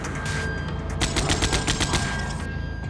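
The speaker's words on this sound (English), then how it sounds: "The weapons need to sound believable in order to create the immersive experience that the player expects" Rapid gunfire from weapons in the first-person shooter Sauerbraten: dense bursts of shots crackle in quick succession and peak loudly in the middle, with steady game ambience underneath and no talking.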